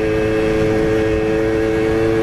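A Tomos moped with Hammer clutches being ridden, its small engine producing a loud, steady buzzing hum with a constant pitch, close and continuous with no talk.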